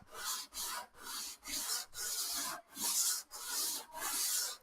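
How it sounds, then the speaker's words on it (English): Sandpaper rasps across the wooden fretboard of a vintage classical guitar during radiusing, a close, hissing rub in about eight long back-and-forth strokes with brief pauses between them. "I just needed a tougher grit of sandpaper for the initial sanding process"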